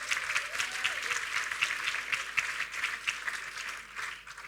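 Audience applause at the Prix Jean Vigo 2024 award ceremony, a sustained, moderately distant clapping from a full room with no voices over it.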